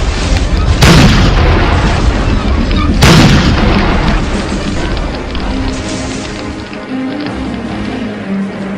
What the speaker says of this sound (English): The flames had lit the fuses to a row of cannons that were unfortunately fully loaded.